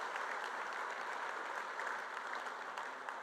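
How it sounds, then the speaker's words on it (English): A luncheon audience applauding a club figure, steady sustained clapping from a room of people, moderately distant and without pauses. "another big round of applause for Mike Atkinson"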